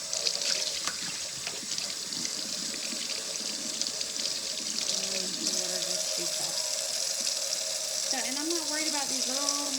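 Running tap water steadily rinsing a tumbler during sanding work, a continuous close splashing hiss with a brief voice toward the end.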